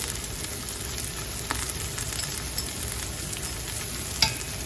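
Half a green pepper and a teaspoon of cumin fry in a pot for a corn tomato basil chowder, giving a steady, moderate sizzle with faint crackles and one brief clink near the end, close by and without speech.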